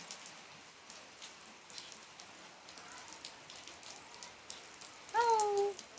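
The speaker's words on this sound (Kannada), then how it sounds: "ಮಳೆ ಅಂತೂ ಬಿಡ್ತಿಲ್ಲ." Steady rain falls outside, a soft continuous patter of drops on surfaces heard from indoors, with a brief bird-like whistle near the end.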